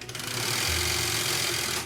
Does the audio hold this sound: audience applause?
no